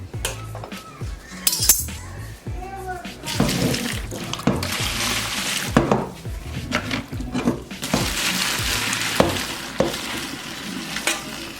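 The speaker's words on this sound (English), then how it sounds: "And then we are going to drain our water." Pasta water pours and splashes into a sink among clattering pots and utensils, with bursts of rushing flow and a few metallic knocks.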